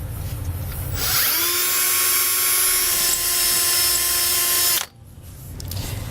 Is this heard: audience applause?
no